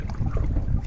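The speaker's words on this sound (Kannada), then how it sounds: "ಬೋಟ್ ಮೂವ್ ಆಗ್ತಿದೆ" A boat moving on the Gangavalli river near Ankola during a scuba diving search operation, giving a steady low rumble with water and wind noise, fairly loud and continuous, with no talk.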